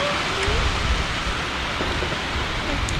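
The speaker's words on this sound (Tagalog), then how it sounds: "Lakas! Ang sarap ng ulan!" Heavy rain pours down in a steady, dense wash for the whole stretch, close and continuous, with a faint voice barely present underneath.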